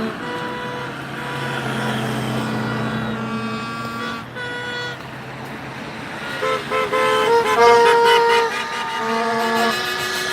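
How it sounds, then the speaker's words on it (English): Car horns honking in support of an ICE protest in Saint Paul, long sustained toots overlapping with traffic rumble, then a burst of rapid repeated honks near the end, loud and close. "The honking is in support."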